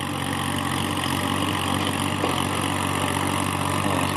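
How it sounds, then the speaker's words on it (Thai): A Kubota L3608 36-horsepower three-cylinder tractor diesel engine with stock exhaust idles and runs nearby, a constant low rumble with a rough, even throb and no pauses. "ให้ดูการทำงานแล้วก็ฟังเสียงเครื่องยนต์ครับ"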